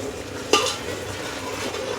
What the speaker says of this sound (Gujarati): પછી સારી રીતે મિક્સ કરી લેવાનું